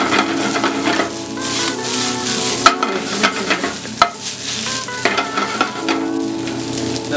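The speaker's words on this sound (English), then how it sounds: "sage leaves, Just let them fry" Sage leaves fry in a maple bacon sauce, giving a steady crackling sizzle broken by a few sharp clinks of stirring, with soft tonal sounds in the background.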